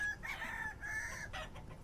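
Chickens and a rooster in the survival game Vintage Story cluck and crow in a short, fairly faint burst of fowl calls heard alone, with a drawn-out crow followed by a few clucks.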